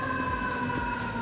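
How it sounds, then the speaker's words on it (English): A New York City fire engine siren wails steadily, a sustained tonal blare with faint pulsing, moderately loud and continuous. "Fire engines that don't sound really, really obnoxious."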